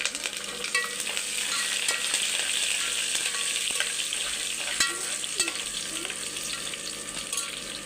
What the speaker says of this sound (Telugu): ఇప్పుడు ఇందులోకి కరివేపాకు వేసుకుందాము.